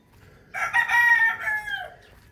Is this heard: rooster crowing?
yes